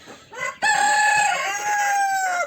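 Chickens and a rooster in a compact coop about three by two and a half metres: a short cluck, then a loud, close rooster crow that holds for nearly two seconds.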